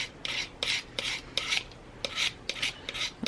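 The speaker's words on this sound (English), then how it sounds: "So I'm just slowly gonna rake and get around this round corner" A tool raking across the dried surface of an air dry putty mannequin, producing a series of short scratchy rasping strokes in a quick irregular rhythm, close and quiet, without speech.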